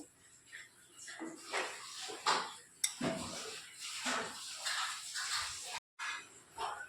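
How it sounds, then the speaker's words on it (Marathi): A spoon scraping and clinking in a bowl while veg sandwich filling is mixed with mayonnaise, with irregular knocks and scrapes and a brief silence near the end; soft speech can be heard in places. "आता हे छान मिक्स करून घ्यायचं आहे"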